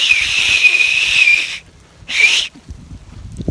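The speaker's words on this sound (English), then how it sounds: "Let's see if I can whistle today" A person whistles two clear, high notes, a long one then a short one, with quiet background noise between.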